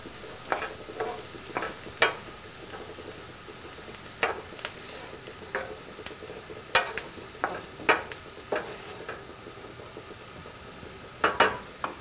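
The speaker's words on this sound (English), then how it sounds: "We want those onions to get nice and browned and soft, so we're gonna let them sit on the heat." Onions fry in a pan with a steady soft sizzle, broken at irregular intervals by sharp scraping stirs of a utensil against the pan.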